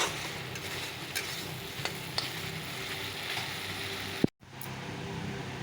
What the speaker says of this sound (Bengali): বৈরালি মাছটা রান্না করছি